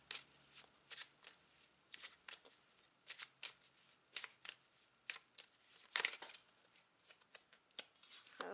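Tarot cards are shuffled by hand in a steady run of quick, crisp riffling bursts, close and fairly quiet, with no talking.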